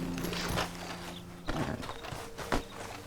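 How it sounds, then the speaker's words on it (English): A horse in the video game Red Dead Redemption 2, with a few hoof clops and snorting scuffles at moderate distance, irregular thuds over quiet ambient background. "Oh, I didn't mean to kick the horse"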